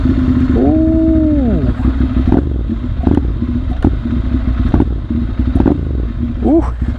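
Motorcycle engine idling with a rough low rumble, revved in two quick blips that rise and fall, heard up close alongside mechanical clatter and bits of talk.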